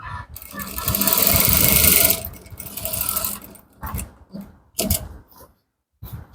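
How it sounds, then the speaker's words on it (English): An electric sewing machine stitches fabric while sewing down the rope and elastic band of women's palazzo combat trousers, a close whirring run of about two seconds followed by shorter bursts, clicks and brief pauses. "So just sew it down."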